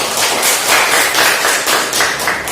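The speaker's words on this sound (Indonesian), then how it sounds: "mari kita berikan tepuk tangan" Applause from a classroom audience welcoming a presenting group, a steady burst of many hands clapping close by for a couple of seconds.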